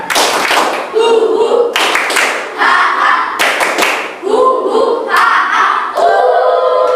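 A class claps out the Tepuk Indian routine: repeated loud bursts of rhythmic group hand clapping interleaved with chanted children's voices, close up and lively.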